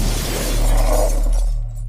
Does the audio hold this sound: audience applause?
no